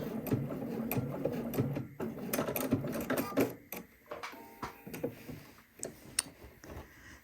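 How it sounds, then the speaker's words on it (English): A sewing machine stitches and backstitches fabric close by, a busy mechanical clatter of rapid ticks and thumps with brief pauses as direction changes. "and then I'm going to backstitch."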